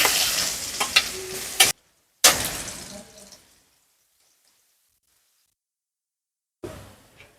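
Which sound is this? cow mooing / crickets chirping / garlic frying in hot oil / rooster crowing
garlic frying in hot oil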